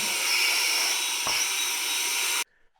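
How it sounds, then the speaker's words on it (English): A vacuum cleaner runs steadily and loudly, close by, while cleaning up dust after sanding and scraping a bathroom vanity cabinet, then shuts off abruptly near the end, leaving near silence. "I'm going to vacuum this real quick"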